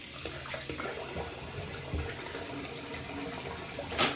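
Hot water runs from a tap into a sink before a straight razor shave, a steady close gush with small splashes and a brief louder spurt at the end.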